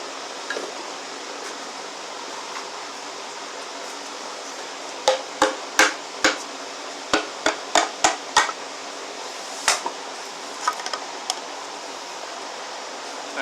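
A hammer strikes a Honda J30A5 engine's oil pump housing a dozen or so times in sharp, ringing blows, clustered in a quick series then a few scattered hits over a steady background hiss.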